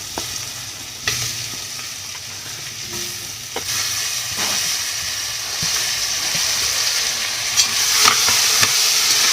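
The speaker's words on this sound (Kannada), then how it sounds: "ಇದೊಂದು ನಿಮಿಷ ಹುರಿಬೇಕು ಈ ಥರ." Chopped onion, tomato and ginger fry in ghee while being stirred, a steady bright sizzle with occasional scraping knocks of a spoon against the pan, close and alone.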